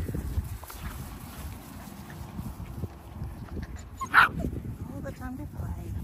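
Doodle puppies give a few high yips and soft whimpers amid rustling, with one sharper squeal standing out as people talk in the background.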